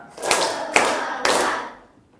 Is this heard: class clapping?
yes